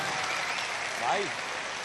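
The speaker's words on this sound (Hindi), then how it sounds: "अगर आप सुनना चाहते हैं तो एक बार जोरदार तालियां बजा दें" A crowd at a mushaira poetry gathering in Aurangabad clapping, a dense, even wash of applause with a faint voice briefly audible partway through.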